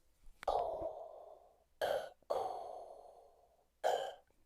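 Someone imitates Darth Vader's breathing by blowing through cupped hands, four hollow, airy breaths alternating long and short, close and fairly soft, with silent gaps between them.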